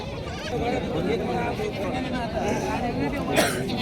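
A local goat at the Khandoba goat market in Parbhani district, Maharashtra, bleats a few times under continuous close talking, the calls partly masked by the voice.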